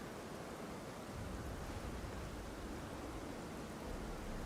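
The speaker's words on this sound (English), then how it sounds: "Oh, that's water." Water in Elden Ring Shadow of the Erdtree gives a faint, even rushing wash, a broad steady noise like surf or falling water that holds unchanged throughout without talk.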